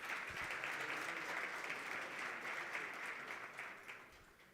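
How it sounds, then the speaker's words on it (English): Conference audience applauding after a panel session on green hydrogen in Namibia, a dense, moderately distant patter of clapping that holds steady and then begins to thin out toward the end. "let's give them another round of applause"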